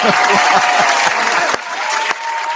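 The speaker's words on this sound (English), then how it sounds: "Round of applause." A crowd applauds loudly and steadily, dense clapping filling the whole moment with a slight dip near the end.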